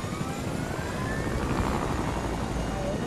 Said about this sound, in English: let's take this new helicopter with us